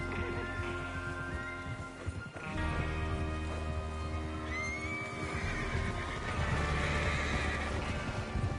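Horses whinny repeatedly over a dense Wild West game soundscape in Red Dead Redemption 2, with steady clip-clopping hooves and rich layered background sound throughout, no talking.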